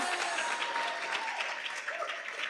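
A church congregation at a Sunday service applauds the band, a steady wash of clapping from many hands that stays even and moderately loud throughout.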